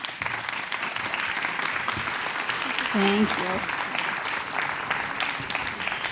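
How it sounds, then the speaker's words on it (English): Applause from a conference audience thanking a panel, a steady broadband clatter of many hands filling the room, while a voice briefly speaks over it. "Round of applause for them."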